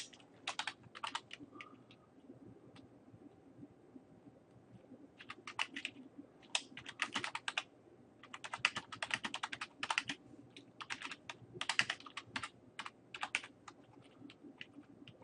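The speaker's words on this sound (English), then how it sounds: "Let me try typing this" Rapid keystrokes on a computer keyboard come in irregular bursts with short pauses, close and clear against a quiet background.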